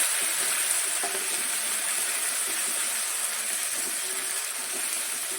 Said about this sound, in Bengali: আমি জিরে ফোড়ন দিচ্ছি। দুটো শুকনো লঙ্কা দিয়ে দিলাম।